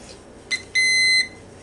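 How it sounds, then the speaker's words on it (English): A kitchen timer gives a short electronic chirp, then a sustained high-pitched beep lasting about half a second, clear and close in an otherwise quiet room. "I'm going to go ahead and set my timer"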